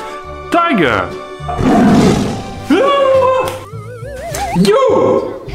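A tiger roar in a children's alphabet song, a few loud, close growling roars alternating with a child's singing and chirpy animated sound effects.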